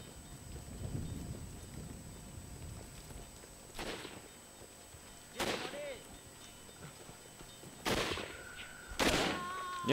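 Gunfire in the video game ShellShock 2: Blood Trails, heard as several sharp, loud bursts of shots spread across the stretch over a low, rumbling game background.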